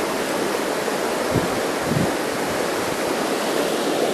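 A river stream flowing, a steady dense rush of water that is loud, continuous and close, with small surges and no voices.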